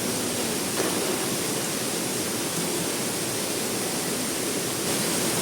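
Kilangin Falls in Liliw, Laguna, a spring-fed waterfall, roars as a steady, dense rush of falling water close by, filling the whole clip without any voices.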